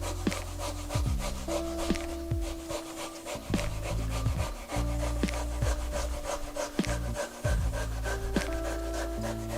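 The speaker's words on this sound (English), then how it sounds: "here's our microplane, and then what we're going to do is just grate this straight into our bowl" Half a pear, then a whole one, is grated on a microplane straight into a bowl, giving quick rhythmic rasping strokes that repeat steadily, close and moderately loud, with no talking.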